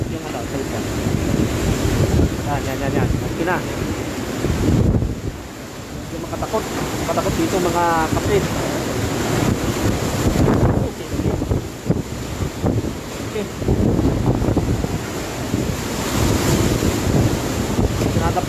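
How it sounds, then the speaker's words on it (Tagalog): Strong wind from Super Typhoon Goni buffets the microphone in continuous loud gusts and rumbles while rain and rough surroundings roar beneath, with people talking over it. "Malakas na yung hangin raw."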